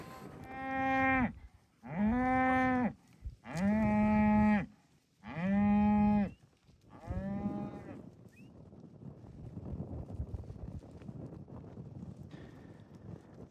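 Several cattle moo loudly in a desert corral during spring branding work, five long bellowing calls in quick succession, followed by steady wind and faint shuffling of hooves.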